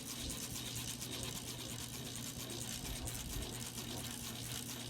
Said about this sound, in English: And the switch housing sometimes makes noise.